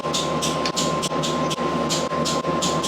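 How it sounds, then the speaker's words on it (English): A torque wrench tightens bolts on a 1975 Honda CB200T engine, making a loud, steady ratcheting rasp in repeated strokes broken by short pauses, alone and close up. "Now let's go ahead and torque them down."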